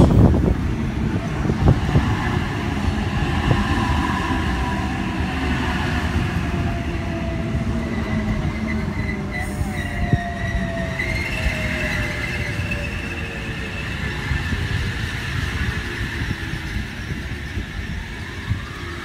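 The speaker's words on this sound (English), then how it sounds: "Wyong service arriving into platform 3." A Sydney Trains Wyong service pulls into a platform at Redfern Station, with loud, steady rolling rumble, rattling wheels and drawn-out squealing tones sliding downward as it slows.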